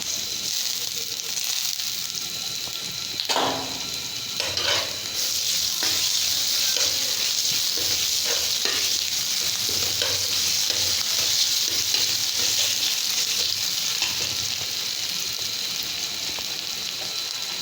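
Ginger garlic paste sizzles and fries in a pan for a soybean curry, a steady close hiss broken by several scraping stirs of a spoon, with no talking.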